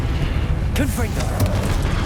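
A Confringo spell explosion in the video game Hogwarts Legacy, a low rumbling boom mixed with swirling magical whooshes, with a voice speaking over it.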